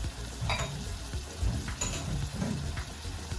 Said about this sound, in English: I'm gonna mix that really quick, and then I'm gonna close the pot up so that it can cook it.